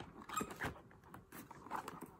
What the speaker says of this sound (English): The dogs are going bananas.